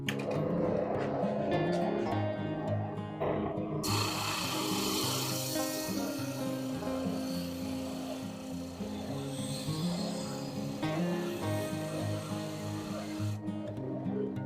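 A RIDGID EB4424 oscillating edge/belt spindle sander shapes a notch in a wood piece with a steady motor hum and a loud continuous abrasive rasp that swells and shifts as the wood is pressed against the spindle, ending in the motor running alone.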